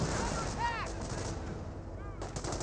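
Rifle fire pops in a World War II battle in the video game Company of Heroes, steady shots under a dense layer of battlefield noise, with faint whistling sweeps overhead.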